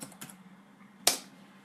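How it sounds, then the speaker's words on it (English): A few sparse keystrokes on a computer keyboard, with two soft taps at the start and one sharper, louder clack about a second later, over a faint steady hum in a quiet room. "What I'm just typing in here is"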